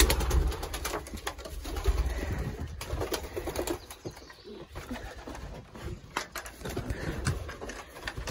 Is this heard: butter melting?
no